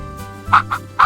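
A goose gives three quick, loud honking calls in close succession, near and clear against a quiet background.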